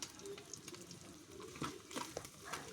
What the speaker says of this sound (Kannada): ಖಾರ ಪುಡಿ ಹಾಕಿದ್ಮೇಲೂ ಚೆನ್ನಾಗಿ ಎಣ್ಣೆಯಲ್ಲಿ ಫ್ರೈ ಮಾಡ್ಕೊಳ್ಬೇಕು